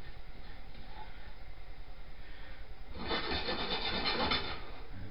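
Fennel seeds toasting dry in a pan for a pastrami rub give a soft, dense crackle and rasp, quiet at first and then building into a busier crackling burst in the last couple of seconds, with no talking.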